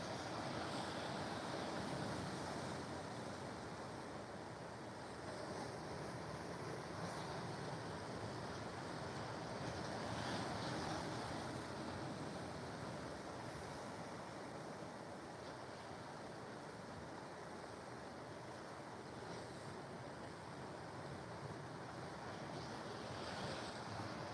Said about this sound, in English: Some nice little waves just breaking over that rocky reef there